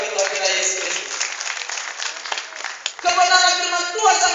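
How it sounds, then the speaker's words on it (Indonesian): A church congregation applauds together, a steady wash of clapping that swells, briefly dips and then picks up again with a voice rising over it. "Berikan tepuk tangan sama-sama bagi Tuhan kita Yesus Kristus."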